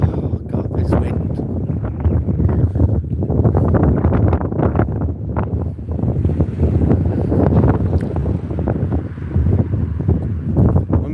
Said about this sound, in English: Oh God, this wind.